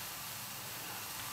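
Water hissing as it hits a strong fire while chestnuts roast, a steady, fairly faint broadband hiss without breaks or voices.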